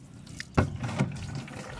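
Water from a natural spring splashes and gurgles in a short, close burst, with one sharper splash standing out against a soft, continuous trickle.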